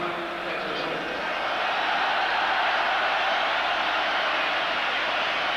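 A huge football crowd roars steadily at the 1987 UEFA Cup final between IFK Gothenburg and Dundee United, a dense, continuous stadium din of cheering that swells slightly and holds loud throughout.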